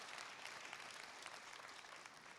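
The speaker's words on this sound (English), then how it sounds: "So I just want to give a round of applause for these powerful women." Audience applause from a crowd at an Indigenous women's panel on reconciliation at the 2018 Parliament: steady, dense clapping that stays faint and sounds distant for a couple of seconds.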